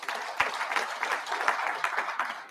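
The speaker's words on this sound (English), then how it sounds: "Join me to clap for our sponsors." Audience applause at a closing ceremony, a steady wash of many hands clapping throughout, fairly close and full, with no talk over it.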